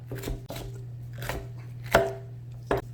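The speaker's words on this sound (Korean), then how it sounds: "사각 모양으로 썬다." Five crisp knife chops cutting bell pepper into squares on a cutting board, spaced unevenly, with a steady low hum in the background and no talking.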